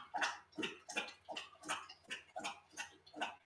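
A dog laps water from a bowl close by, with quick rhythmic wet slurps repeating steadily about three times a second, soft and alone.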